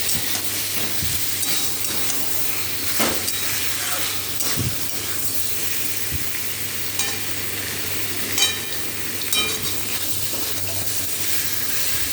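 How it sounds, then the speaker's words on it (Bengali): Fried soybean chunks, potato, pointed gourd and egg being stir-fried together in a pan, with a steady soft sizzle and hiss under scattered scraping and clinking of a spatula over about twelve seconds. "এবার এটাকে ভালো করে কষাবো"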